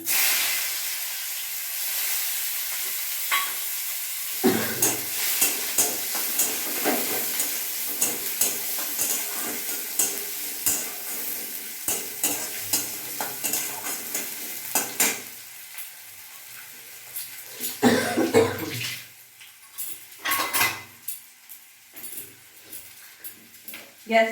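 Chopped onions fry in a pan over a gas flame, a steady hiss and sizzle broken by bursts of stirring and scraping, loud and close throughout.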